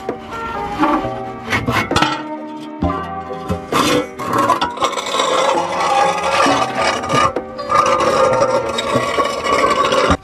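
Scraping, rasping metal and clinks ring out under a Vauxhall Astra as the exhaust centre section mounts are worked off, with knocks and rubbing in a close, busy stretch of workshop noise.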